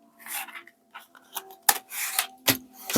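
Tarot cards are gathered into a pile up close, giving brief papery rustles and scrapes followed by a few soft slaps as the cards are squared together.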